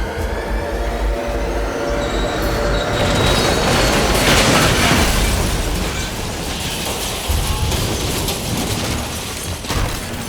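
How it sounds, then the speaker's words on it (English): A train under full emergency braking at high speed rumbles loudly with metallic wheel squeals and grinding brakes, a heavy, sustained screech building and continuing throughout. "he applies full emergency braking"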